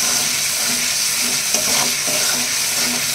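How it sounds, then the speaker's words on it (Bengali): Steady, close sizzling and frying in a hot pan as tomato sauce and about a spoonful of soy sauce go in with frying ingredients, with light stirring scrapes throughout and no voices. "ভাজা ভাজা হয়ে গেছে, এর মধ্যে টমেটো সস দেবো, আর দেবো 1 চামচ মতন সয়া সস।"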